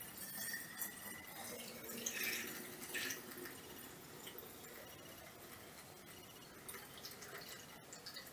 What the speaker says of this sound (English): we are going to pour our dyed water in it.